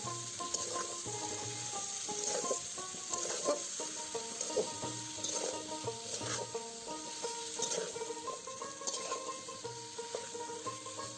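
A spoon stirs cut vegetables and spices in a pan for Bengali bhoger khichuri. Soft scraping and light sizzling come in irregular strokes under a faint, constant background hiss.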